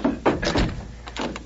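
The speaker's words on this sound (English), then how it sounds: "close and lock the door" A wooden door thuds shut and its lock clunks in an old radio drama, a few close, solid knocks and scrapes packed into about a second.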